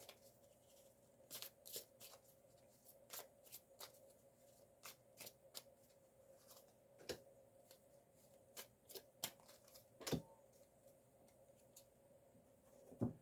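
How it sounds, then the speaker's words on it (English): Tarot cards being shuffled in repeated riffles and quick flutters, close and fairly quiet, with soft handling noises between bursts and no talking. "while I'm shuffling the cards"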